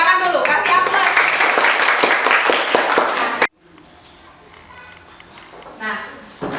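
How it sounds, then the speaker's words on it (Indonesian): A school class claps hands together in a loud burst of rhythmic applause for a few seconds, then it cuts off abruptly to quiet room sound with faint voices. "Tepuk tangan dulu, kasih aplaus"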